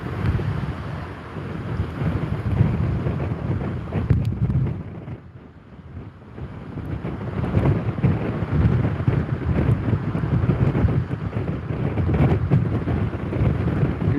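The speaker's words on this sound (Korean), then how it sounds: "지금 생각보다 바람이 막 그렇게 강하게 불지는 않아요 세기는 한데" Strong typhoon winds from Typhoon Bavi on Jeju Island roar and buffet the microphone in sustained gusts, easing briefly midway before surging again, with no talk.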